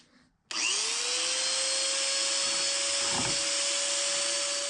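Biax power scraper working a 24-inch camelback straight edge: the motor kicks in after a half-second of quiet, then holds a loud, close, steady buzzing whine with a constant pitch through to the end, with no voices.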